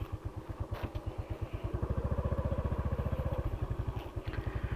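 Motorcycle riding slowly on a dusty rural road: a steady, low, chugging engine putter with even rapid pulses, close and fairly loud, with faint clatter, no voices.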